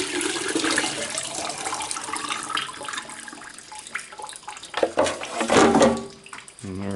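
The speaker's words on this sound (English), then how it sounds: "we're going to dump this water into our quart jar here" Water dumped from a container into a quart jar, a close, splashy pour that gurgles and surges, then tapers off with a short low knock at the end.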